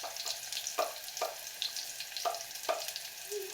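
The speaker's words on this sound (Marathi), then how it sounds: "इकडे आपला कांदा भाजतोय" Onion frying in a pan, a quiet, steady sizzle broken by several sharp clinks and scrapes of a utensil against the pan, close and without talk.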